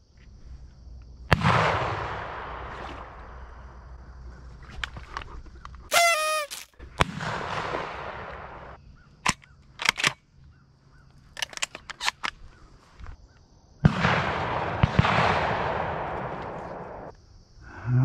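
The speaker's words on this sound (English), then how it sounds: "Just heard the first shots of the year." Several gunshots ring out on a foggy opening morning of Virginia duck season, loud sharp blasts scattered across the scene with long decaying echoes, plus a few fainter distant shots and brief calls between them.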